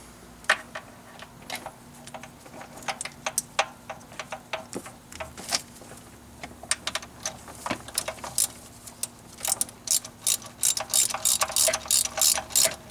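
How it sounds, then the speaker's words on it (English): Ratchet turning a Time-Sert 5600 spark plug thread repair insert into place, quick close clicking pawl ticks in uneven bursts that grow denser and louder toward the end, with no talk. "Start it by hand, and then use a regular ratchet."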